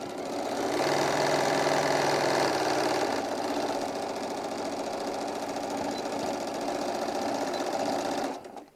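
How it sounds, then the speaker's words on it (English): A sewing machine runs in a steady continuous whir while stitching the lines for a hobo bag's pockets, its motor hum and needle rattle holding level almost to the end, with a slight shift in pitch partway through before it stops. "I'm going to stitch on both of the lines that we drew to make our pockets"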